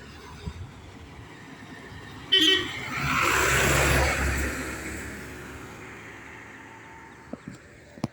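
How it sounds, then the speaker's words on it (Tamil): On a long road near Paavai College, a passing school bus gives one sharp horn toot, then its engine rumbles by close, swelling and fading away, with faint talk in the background. "ஸ்கூல் பஸ்லாம் போகுதுங்க அடிக்கடி"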